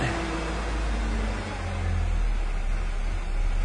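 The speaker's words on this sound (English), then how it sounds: "the engine is just not working very well, but we do have fuel pressure now" A 1997 Ford engine runs roughly just after a hard start, a low uneven idle drone with slight wavering and a brief dip, steady and close throughout.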